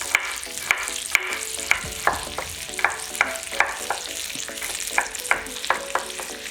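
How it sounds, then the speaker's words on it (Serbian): Pork fillet frying in a pan, a steady close sizzle broken by regular sharp clinks and scrapes of stirring, with no voices. "Dok se meso prži"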